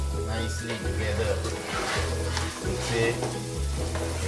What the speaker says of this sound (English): Mix nicely together.